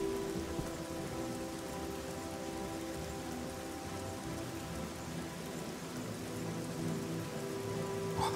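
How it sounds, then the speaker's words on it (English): Rain falling steadily in the game Oblivion, a dense continuous patter filling the whole stretch at even loudness. "now it's gonna rain."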